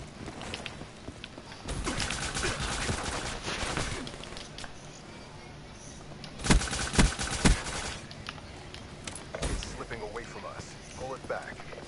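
Bursts of gunfire from a new gun in Call of Duty: Black Ops 3 come in rapid, loud automatic volleys, the sharpest cluster in the middle, between stretches of talk.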